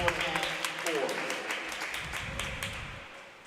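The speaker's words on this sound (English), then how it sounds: "Gets a roar of applause from the crowd" Scattered applause and clapping from spectators at a school swim and dive meet after a dive, heard as sharp claps under a voice talking over them and fading toward the end.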